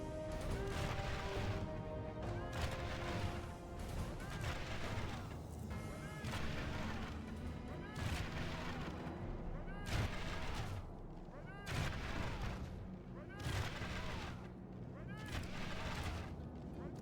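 Troops exchange fire in a video game battle, with repeated heavy booming volleys and crashes rolling over a dense, continuous din while someone talks over the action.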